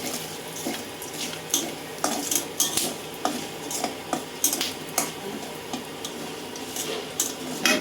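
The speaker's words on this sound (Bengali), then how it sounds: "এলাচি লবঙ্গ দিয়ে এটা ফোড়নে দিলাম।" Cardamom pods and cloves sizzle in hot oil as whole spices are tempered for a chicken and soya chunk curry, with steady frying hiss, repeated scrapes and clinks of a stirring utensil against the pan, and no talk.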